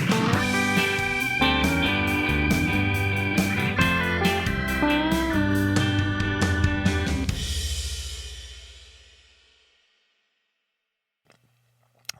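The short version of a new podcast theme song plays as dense full-band music, then fades out smoothly into silence, with a faint brief sound just before the end.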